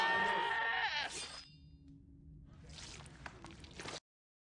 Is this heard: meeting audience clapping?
no